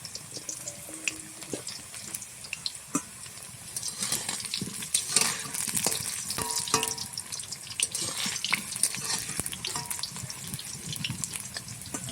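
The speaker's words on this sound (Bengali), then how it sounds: "এবার আগে আলুগুলোকে ভেজে নেব।" Potatoes frying in hot oil in a heated wok, a steady crackling hiss with scattered sharp pops and clinks over a running background wash, moderately loud and continuous with no talking.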